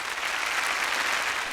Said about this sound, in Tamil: நல்ல ஒரு கைத்தட்டல் ஃபார் தீபா ஆத்ரேயா